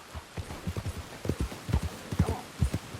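Horse hooves clip-clop at a steady walking pace in Red Dead Redemption 2, a string of soft, fairly close hoof falls with faint rain in the background.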